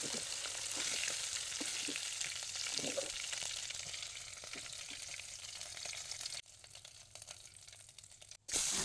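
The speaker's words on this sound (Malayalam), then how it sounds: "അതേ എണ്ണയിലോട്ട് തന്നെ 2 ഓണിയൻ ചോപ്പ് ചെയ്തത് ഇട്ട് നല്ലവണ്ണം ഒന്ന് മിക്സ് ചെയ്തെടുക്കാം." Chopped onions fry in shallow oil left over from chicken, a steady close sizzle with stirring scrapes throughout that drops quieter near the end, then a brief cut and a louder burst.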